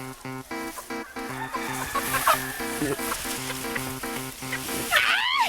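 Native chickens cluck and squawk in short bursts while being caught, over steady rhythmic background music, with a sharper squawk near the end.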